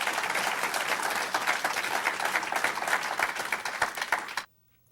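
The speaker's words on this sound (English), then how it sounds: "So give the minister a big round of applause" An audience applauds Minister Louis Farrakhan, a dense, steady round of clapping that holds strong for about four and a half seconds and then cuts off abruptly into near silence.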